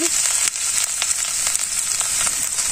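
Chopped garlic, ginger paste and onion frying in hot oil, giving a continuous loud bright sizzle with faint stirring scrapes and no talk.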